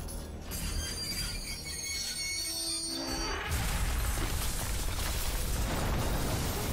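A moving train car in Half-Life: Alyx gives a dense, continuous rumble with faint metallic rattling. The sound thickens and grows louder partway through, then holds steady without a break.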